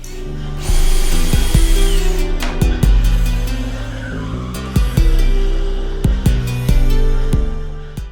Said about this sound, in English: here I'm drilling the holes with my Kreg jig shelf installator